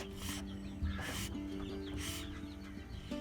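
An angry broody hen clucks and grumbles in a low, steady stream close by, with a few sharper bursts of agitated noise breaking in at intervals.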